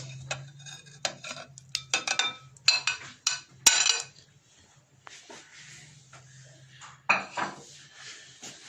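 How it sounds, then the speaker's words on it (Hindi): Chicken is mixed with yogurt and masala spices in a bowl, with a utensil clinking and scraping against the dish in short, irregular bursts close by. "I marinate the chicken with the yogurt and masalas."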